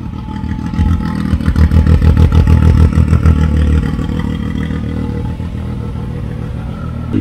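A turbocharged side-by-side running its previous exhaust revs hard and loud up close for several seconds, then drops back to a steadier, quieter rumble.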